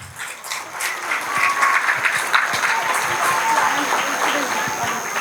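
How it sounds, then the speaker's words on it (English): A school annual day audience gives sustained applause, a dense wash of many hands clapping steadily throughout, with crowd murmur mixed in. "So we want a clap."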